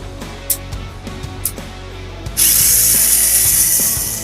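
A small Mini 4WD dynamo motor is tested during break-in. Clicking and ratcheting come first, then the motor whirs up into a loud, steady, high-pitched whine that continues to the end.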